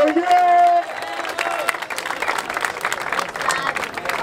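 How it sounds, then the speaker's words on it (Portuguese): A crowd at a hip hop rap battle breaks into applause and cheers. Dense clapping carries on steadily for several seconds, with voices shouting over it and a brief tonal sound at the start. "Palmas pra essa batalha quebrada!"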